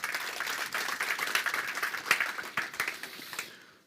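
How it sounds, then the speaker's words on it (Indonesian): Church congregation applauding during a sermon, a moderate, close spread of many hands clapping that tapers off and ends abruptly near the close. "tepuk tangan saudara"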